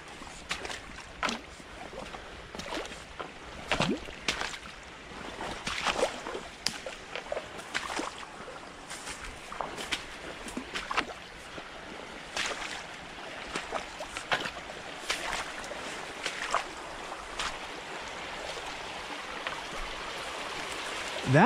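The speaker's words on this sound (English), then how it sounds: "Water flowing all kind of ways out here." Stream water flowing several ways around a beaver dam outdoors, a steady broadband rush with scattered splashes and trickles, fairly close and continuous, with no voices.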